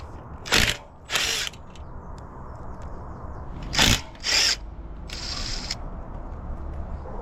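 A socket wrench working the nut on the folding stem of an Estarli e20.7 electric scooter, giving several short, close ratcheting bursts in two pairs plus one longer rasp, over steady background noise.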